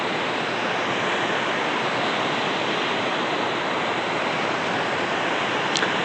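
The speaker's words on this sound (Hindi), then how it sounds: "यहाँ पे ये जो भागा नदी है जो लाहौल से आती है वो बह रही है" The Bhaga river flows through the Lahaul mountains of Himachal Pradesh, giving a steady, broad rushing roar of water that stays loud and even throughout with no voices.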